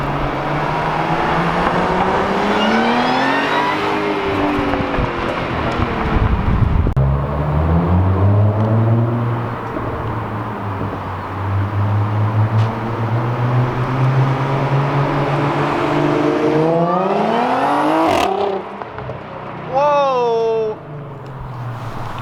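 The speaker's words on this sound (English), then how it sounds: "He's gonna drive by with it valves closed in first gear, and then he's gonna do it again in first gear with the valves open" Car with an ECS valved exhaust passing in first gear, first with the valves closed as a rising engine note that swells and fades, then again with the valves open, louder and raspier, with people talking throughout.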